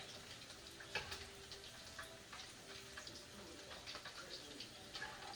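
Sweet-and-sour chicken pieces frying in oil, a steady soft sizzle with faint crackles and occasional light clinks of stirring, close and fairly quiet with no talking.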